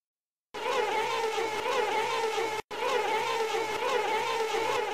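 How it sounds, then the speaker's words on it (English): A buzzing insect sound effect drones loud and continuous for about two seconds, cuts off briefly, then resumes just as steadily to the end, with no voices. "Buzz."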